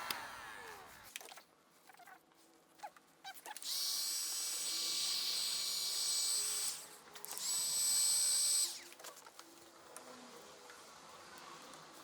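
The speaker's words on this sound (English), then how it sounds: "I'm just using a heat gun to take the convertible top off this frame" A heat gun used to take a convertible top off its frame blows with a steady high whooshing hiss in two long bursts, separated by a short break and framed by quiet handling noises.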